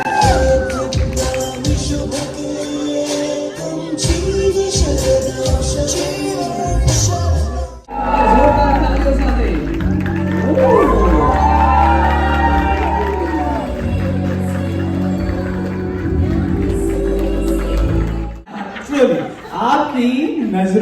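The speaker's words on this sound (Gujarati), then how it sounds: "આપણે બધા એમને જોરદાર તાળીઓ સાથે એકદમ ગ્રાન્ડ વેલકમ કરીશું" Family guests at a ring ceremony cheer, whoop and laugh as a couple makes a grand entrance, a loud crowd roar that swells after a brief pause and stays lively throughout.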